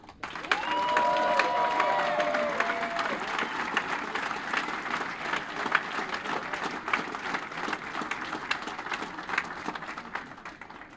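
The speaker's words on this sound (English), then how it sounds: "So let's give yourself a round of applause." A crowd at a 2017 CAN livestreamed event gives a long round of applause, loud and sustained for about ten seconds, with a few whistles or cheers rising over the clapping early on before it slowly thins.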